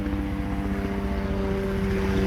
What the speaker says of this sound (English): that's Metro Dade police helicopter.